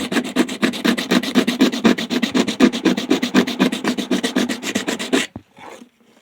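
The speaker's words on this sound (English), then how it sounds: "I'm going to sand on this for a bit." Hand sanding on an X-15 scale model: a fast, even series of back-and-forth rasping strokes, loud and close, runs for about five seconds and then stops abruptly, leaving faint handling noise.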